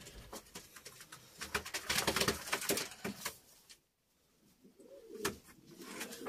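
Many pigeons flutter and coo in an enclosed loft, a busy rustle of wings and soft calls with a brief quiet gap midway.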